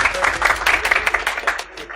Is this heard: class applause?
yes